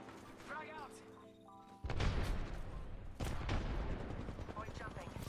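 A frag grenade goes off in a sci-fi shooter video game as a sudden loud boom with a long rumbling tail, followed by a second blast and continued combat noise, with game voices heard earlier.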